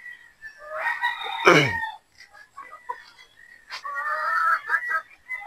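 Pullet game fowl, a 3/4 Sweater and 1/4 Boston cross, in a pen on a game farm: scattered clucks and squawks, with one loud harsh call near the middle, close and fairly clear.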